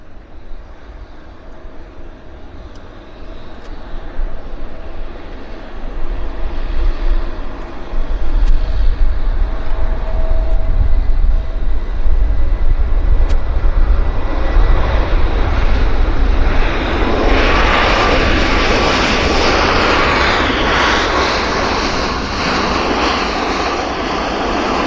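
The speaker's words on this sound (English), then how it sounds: "this is the Air Canada inbound from Calgary," Air Canada airliner arriving from Calgary at Vancouver Airport in the evening, its engine roar swelling from distant to loud and then holding as a broad rushing drone while it passes near, with no voices.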